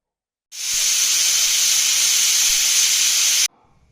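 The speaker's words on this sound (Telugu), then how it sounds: "ఐదు విజిల్ వచ్చినాయి బంద్ చేయాలి" A pressure cooker whistle releases steam while chicken soup boils inside, a loud, steady hiss that starts abruptly, holds for about three seconds and cuts off sharply, with a faint hum remaining afterward.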